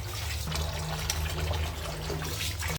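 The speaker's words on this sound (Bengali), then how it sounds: "এখন আবারও পানি দিয়ে রাখছি।" Water pours steadily into a clay pot nearby, a continuous splashing trickle over a low hum, with no voices.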